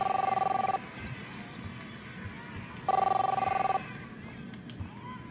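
Two bursts of an in-game telephone ringing in Captain Spirit, each lasting just under a second, separated by a pause and set against a low background murmur.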